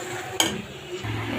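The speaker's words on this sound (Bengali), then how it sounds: "এখন ভালো করে মশলাটা কষাইতে হবে" Spices being stirred and fried in a pan for a beef and potato curry, with a sharp scrape or clink near the start and a steady low sizzle and stirring after.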